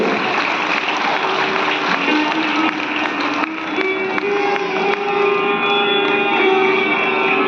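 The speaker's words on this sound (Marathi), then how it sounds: "जोरदार टाळ्या वाजल्या पाहिजे।" Audience applause at a Marathi stage event before a screening of Shyamchi Aai, a dense, steady wash of clapping from a large crowd, with some sustained tones running underneath.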